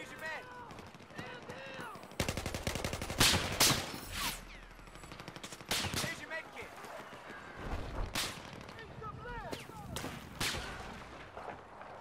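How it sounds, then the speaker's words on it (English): Rapid gunfire in a shooter video game, with bursts of automatic fire and sharp single shots coming in clusters, loudest through the middle, mixed with game noise and players talking throughout. "Fuck shooting at me."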